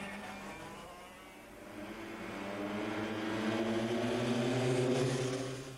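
Engine drone of karts racing on the Knockhill track, a steady buzzing note that rises as they accelerate and stays in the middle distance, with no voices.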